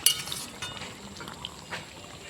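A spatula scrapes and clinks faintly in a pan of potato, pointed gourd and prawn curry, with soft wet bubbling beneath a few light taps.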